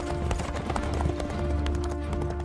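Galloping horse hooves clip-clop rapidly and continuously as a rider spurs a horse through woods in a medieval Italian tale, a dense steady rhythm with faint voices mixed in.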